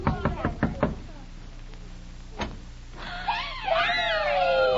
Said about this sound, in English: just knock at the door and you'll find out